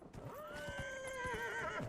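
A horse whinnies loudly and close in the video game Dragon Age Inquisition, one long rising-then-falling neigh held for most of two seconds over a soft run of hoof clip-clops.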